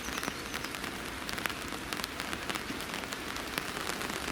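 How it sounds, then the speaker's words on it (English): Rain begins falling on an allotment, a dense, steady patter of drops striking surfaces nearby, with crisp individual raindrops scattered through an even outdoor hiss. "It's rain starting."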